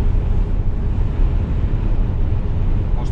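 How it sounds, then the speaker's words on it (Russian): Strong wind buffets the microphone at an Alpine roadside near a former customs post, a loud, steady low rumble filling the entire moment with no voices. "Постоянно ветер."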